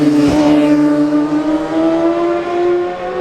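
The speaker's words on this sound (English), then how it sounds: "towards us now at a fast pace is number 14, James Field on a Kawasaki" A Kawasaki racing motorcycle in a Manx Grand Prix newcomers race at Ballacraine howls past close by at speed, a sharp loud pass with falling engine pitch that trails into a steady high whine as it recedes.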